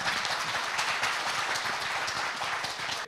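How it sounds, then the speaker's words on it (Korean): Sustained applause from a seated audience at an agricultural forum lecture in Korea, welcoming a farm representative to the stage; steady, dense clapping throughout that cuts off abruptly at the end, with no talk. "큰 박수로 환영해 주시기 바랍니다."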